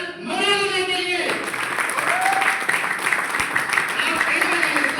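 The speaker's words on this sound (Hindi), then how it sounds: "एक बार जोरदार ताली बजाइए" An audience at a party bursts into loud, sustained applause right after a voice, the clapping continuing as a dense, steady wash of noise to the end.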